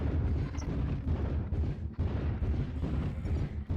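Weapon fire in the MechWarrior Online video game, with dense, continuous booming blasts and rumbling impacts rolling on without pause, loud and close.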